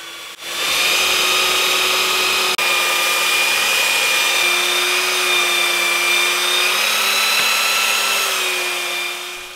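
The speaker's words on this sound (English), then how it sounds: "Next, we sanded the cut pieces." A power sander works over freshly cut wooden pieces, a steady high-pitched motor whine starting abruptly and running unbroken, close and loud, with no talking.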